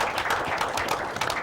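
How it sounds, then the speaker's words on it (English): Dense applause from a late-night comedy show audience, a steady wash of many hands clapping at once, fairly loud, with no voices over it. "So how about a round of applause for that?"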